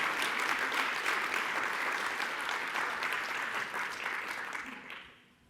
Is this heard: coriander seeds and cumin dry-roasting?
no